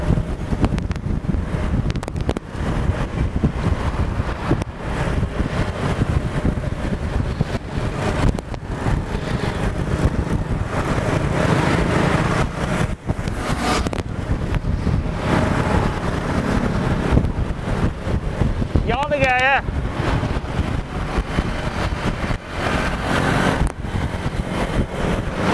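Strong gusting wind buffets the microphone on a busy river bridge, a continuous heavy roar with traffic rumbling through it and a brief passing horn.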